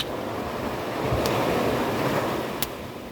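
Ocean waves wash onto a beach in a steady, broad roar that swells midway and eases off, with light wind noise and no talk.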